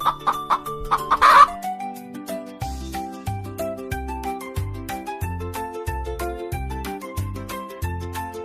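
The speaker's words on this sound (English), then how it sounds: "Chicken." A chicken clucks in a quick series of short, close calls near the start, then a steady, calm musical backing carries on with no voices.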